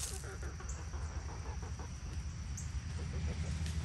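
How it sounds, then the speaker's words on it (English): Soft, low clucking of chickens, including a rooster, with occasional clucks rising above a steady background hum, fairly faint, no talking. "That is a beautiful rooster."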